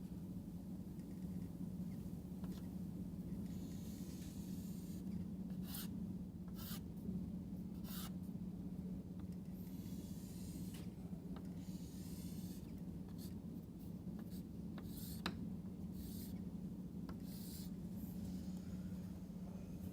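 A diagram of a pontoon configuration is drawn by hand during an engineering lecture. Faint, intermittent scratchy strokes sound over a steady low room hum, with pauses between marks.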